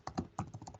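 Quick keystrokes clatter on a computer keyboard, about eight close, crisp clicks in an uneven rapid rhythm, alone and fairly quiet.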